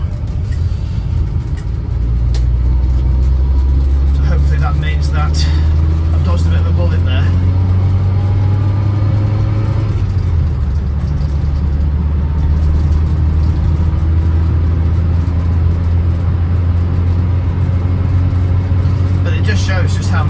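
An Austin Allegro with a faulty cooling system drives along, its engine a steady low drone that shifts pitch midway, with faint background voices.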